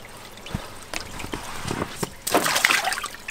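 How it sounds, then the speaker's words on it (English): Water from a garden hose pours and splashes into an inflatable pool, a steady trickle and slosh that swells louder near the end, close by with no talk. "You gotta wait for the pool water to fill up"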